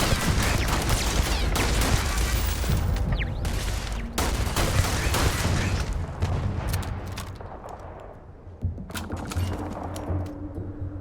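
Rapid bursts of gunfire fill a firefight in the video game Starfield, loud sharp cracks and volleys overlapping densely, thinning into scattered shots, then a final flurry of fire near the end.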